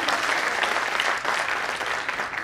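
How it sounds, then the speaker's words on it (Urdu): Steady, full applause from the audience at an All India Mushaira poetry gathering, many hands clapping continuously and fairly loudly with no voices over it. "ایک بار تالیاں بجا کر مجھے حوصلہ دے گا"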